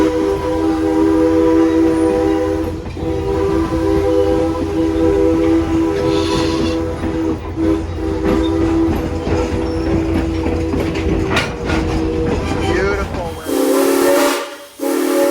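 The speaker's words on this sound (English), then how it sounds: "she uses a B&O 3-chime whistle instead." A steam locomotive sounds a B&O three-chime whistle at the Strasburg Rail Road, a long, loud, sustained chord over hissing steam, followed near the end by a sharp burst of escaping steam.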